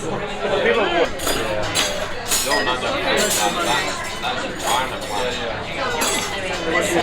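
Cocktail glasses clink together several times in a toast in a busy Edinburgh bar, bright sharp chinks ringing over a background of crowd chatter and voices.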